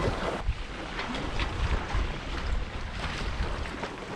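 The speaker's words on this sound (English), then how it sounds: "Starting to white cap out there, and the waves are getting larger." Wind buffets the microphone on a sailboat while whitecapped, growing waves wash and slap around the hull, making a loud, continuous broadband roar with no voices.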